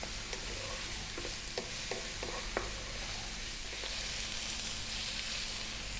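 Eggplant fries in a pan over medium-high heat, a steady close sizzle with several clicking stirs and scrapes of a utensil early on, the hiss swelling slightly louder toward the end.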